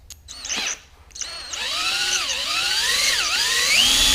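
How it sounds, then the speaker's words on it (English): A power drill fitted with a 7/32 bit bores into a mountain bike frame, its whine starting after a brief pause and then rising and dipping in pitch as load changes, loud and close, with no talk. "This is the 7/32 drill bit."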